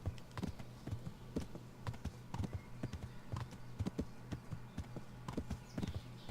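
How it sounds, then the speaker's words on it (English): Horse hooves clip-clop in a steady, fairly close rhythm across a medieval game world in Kingdom Come: Deliverance, with a low hum beneath and faint rustle between the sharp strikes. "Horse."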